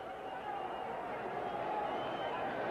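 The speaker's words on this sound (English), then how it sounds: "the noise is really banging off the ceiling here at the Olympic" Crowd noise fills a boxing arena at the Olympic before a fight: a dense, steady roar of many voices murmuring and cheering, sustained evenly throughout.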